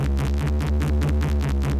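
Reese bass synth pushed through a Saturator distortion plugin, a dark, gritty low tone throbbing in steady pulses about eight times, dense and loud with no voice over it.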